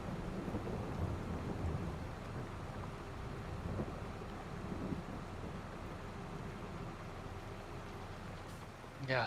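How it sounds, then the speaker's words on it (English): Rain falls with distant rolling thunder in a Farming Simulator 22 game, a steady soft wash of rainfall with low rumbles underneath, faint and continuous throughout. "It's been raining for like 2 hours straight."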